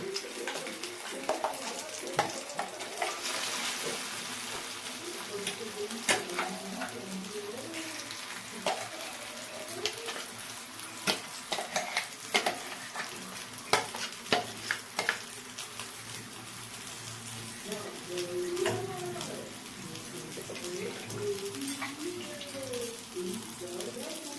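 Beetroot and carrot paste frying in a pan with a steady sizzle and repeated scraping stirs, plus some watery splashing, close and continuous for a long stretch with faint talk in the background.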